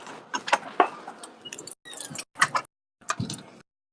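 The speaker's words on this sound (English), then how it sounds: "I heard his keys" A bunch of keys jangles and clinks in short bursts, close and fairly loud, separated by brief silences, with no voices.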